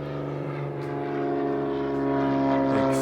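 A propeller airplane passes overhead near Lyman Lake with a steady droning hum that grows slightly louder. The engine sound is heard alone, with no talking.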